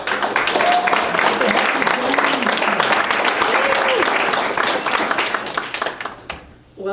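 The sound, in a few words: audience applauding three authors at book launch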